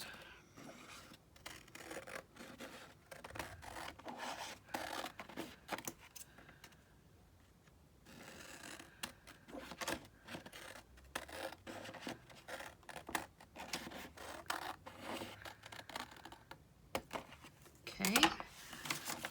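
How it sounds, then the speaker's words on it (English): Scissors cut journal card paper in a run of quick, close snips and crisp paper rustles, with a short pause midway, while a voice talks quietly at times. "Let's do it with the scissors and hope for the best."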